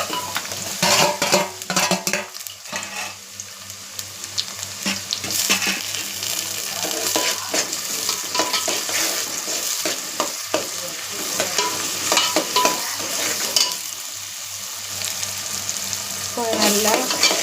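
Tomato, green chillies and crushed ginger and garlic sauté in a hot pan, a steady close sizzle broken by scraping stirs and clattering spoon knocks throughout, with no one talking.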